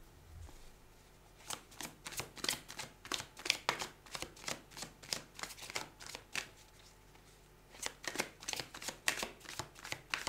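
Tarot cards being shuffled by hand, a quiet close run of crisp riffling bursts in an irregular rhythm, with no talking.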